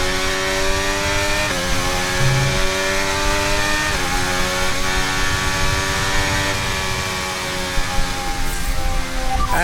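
Racing car engine in the video game F1 Braking Point 2, a loud, continuous high-pitched whine that holds steady and shifts pitch at upshifts and as the car slows, with no talking.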